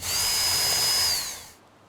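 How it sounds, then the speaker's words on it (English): A power drill drives a screw into roof shingles during a house repair, one loud steady whine for about a second and a half that winds down and stops, close by with no talk. "but first we need to put some screws in. One goes right here."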